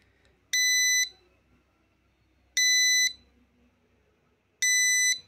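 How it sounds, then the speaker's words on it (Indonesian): The buzzer of an ESP8266 ultrasonic distance detector sounds three loud, piercing half-second beeps at a regular two-second interval, with near silence between them. "dan buzzer juga akan berbunyi sangat besar."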